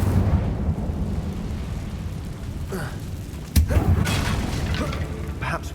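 Incendio fire spell cast in Hogwarts Legacy: a sharp burst at mid-clip followed by a crackling, fiery whoosh over steady game ambience, with a few earlier flares.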